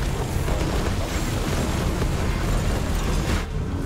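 Chaos bomb explosions in the action game Soulstone Survivors rumble loudly and continuously as a dense wash of booming blasts and bursts.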